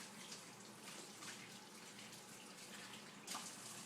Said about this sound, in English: Now I'm going to actually wash my hands before I do anything with food.